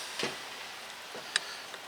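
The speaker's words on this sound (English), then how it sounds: "That's the lid sealing." Canning jar lids sealing after boiling, sweet peppers inside, giving a few small sharp pops spaced irregularly across a quiet kitchen, the loudest one crisp and close.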